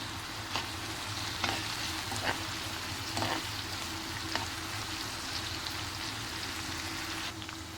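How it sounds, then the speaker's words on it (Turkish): Steady sizzling and crackling of onions and minced meat frying in a pan, with occasional scrapes and stirring clinks, close up and continuous. "Soğanlarımızı kıyma ile birlikte kavuracağız."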